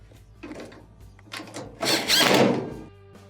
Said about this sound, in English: Let's go ahead and reinstall the 2 holding screws.